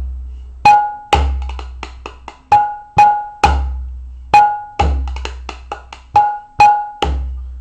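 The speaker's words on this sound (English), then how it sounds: "if we add this slight roll variation with the fingers, it'll sound like this." Mridanga played in the Samadhi Tal pattern with a finger roll variation, sharp ringing strokes and deep booming bass hits in a steady repeating cycle, with quick soft finger rolls between them, close and clear with no talking.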